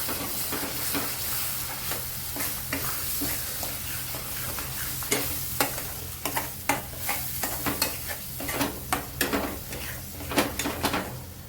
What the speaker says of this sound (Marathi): तेल सुटेपर्यंत आपल्याला परतून घ्यायचं